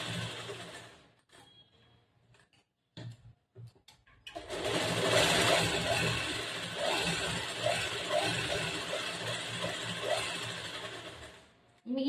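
A sewing machine stitches blouse fabric in a tailoring class, starting with short hesitant bursts before settling into a long, steady, close whirring run that stops abruptly.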